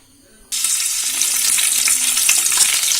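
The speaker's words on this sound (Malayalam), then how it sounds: "ഇനി ഇതിലേക്ക് നമുക്ക് കറിവേപ്പില ഇട്ട് കൊടുക്കാം" Curry leaves hit hot oil with a sudden loud, crackling sizzle that stays steady and dense after a brief quiet moment, while a soya chunks fry is being cooked.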